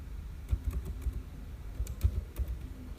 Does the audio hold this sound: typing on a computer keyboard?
yes